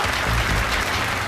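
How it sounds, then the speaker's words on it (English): Dense audience applause on a game-show set, a steady broadband clatter of many hands clapping at once, close and sustained without a break. "Give him a big round of applause."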